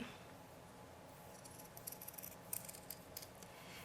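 Scissors trim the fabric edges of a stuffed heart, a faint run of small, quick snips close by.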